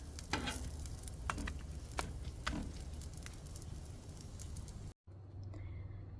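A chicken quesadilla sizzles in a pan after being flipped, giving a steady close hiss with a few soft crackles. The sound cuts out for an instant near the end, then resumes.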